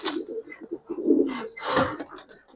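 Giribaz coloring pigeons coo in a low, throaty rolling murmur, several soft calls overlapping close by, with brief brighter rustles or flutters between them.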